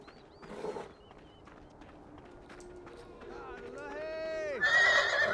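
Horses in the video game Beyond Two Souls give a drawn-out whinny that swells loudly at the end, with hooves clip-clopping and moving about beforehand and faint background ambience.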